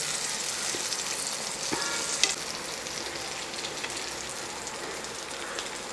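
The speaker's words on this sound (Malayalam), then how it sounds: "രണ്ടാമത്തെ മീനും നമ്മൾ തിരിച്ചു മറിച്ചുമൊക്കെ ഇട്ട് ഫ്രൈ ആക്കി എടുത്തിട്ടുണ്ട്" Anchovies fry in a hot pan with onions, a steady bright sizzle and crackle of oil throughout, with a couple of sharp clicks as the fish are turned, close and alone.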